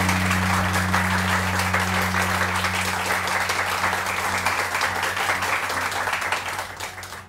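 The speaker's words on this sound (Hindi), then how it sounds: "तारिक अजीज साहब के लिए बहुत सारी तालियां, बहुत सारी तालियां।" A studio audience on a Pakistani morning television show claps and cheers, a dense and loud round of applause that holds steady for several seconds over a low hum, then fades away toward the end.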